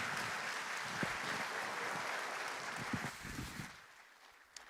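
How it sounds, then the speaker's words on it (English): Conference audience applauds for a guest at a banking event in Ghana, a faint, steady wash of distant clapping that thins out near the end. "please give a round of applause to the one and only Aliko Dangote"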